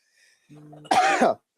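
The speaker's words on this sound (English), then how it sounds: "I had to clear my throat" A short hum followed by a single harsh throat clearing, close and loud, then silence.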